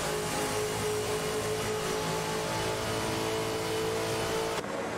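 A Ford Falcon FG race car engine drones loud and steady in an AI-driven video game race, a sustained high revving note with other cars' engines layered underneath, cutting off abruptly near the end.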